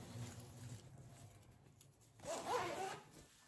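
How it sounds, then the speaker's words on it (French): A zipper closes on a fabric bag: a brief, close rasping zip run, preceded by soft handling rustle. "Il y a juste une fermeture pour fermer la globalité du sac."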